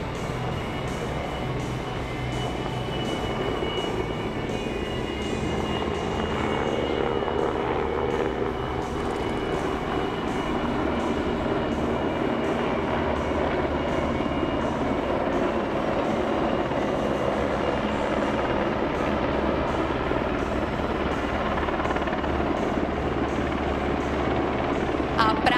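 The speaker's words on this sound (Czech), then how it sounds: "Výsadkáři se připravují na to, že vrtulníky vyzvednou zpět na svoji palubu" Military helicopters thunder overhead at a NATO Days air cavalry show, a loud continuous rotor roar with beating blades that holds steady throughout, while an announcer's voice is partly heard beneath it.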